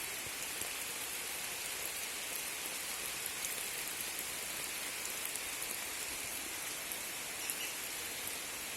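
Rain falls steadily over a field of sprouting black gram, a dense even hiss that holds at the same level throughout, with no voices.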